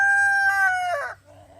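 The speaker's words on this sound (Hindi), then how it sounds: "तो ये मुर्गे मुर्गियाँ बड़े शौक से खाते हैं" In a village, a rooster crows once, a drawn-out strained call that breaks off, followed by softer clucking of chickens nearby.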